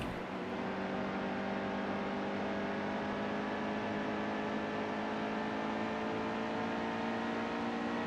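Race car engines roar steadily at Watkins Glen in NASCAR Heat 2, a loud sustained drone with layered engine tones as cars run close together, no break through the whole stretch.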